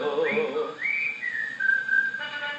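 Whistled melody from a record played on a Victrola Credenza gramophone, a clear bright tune of gliding and held notes over faint band backing.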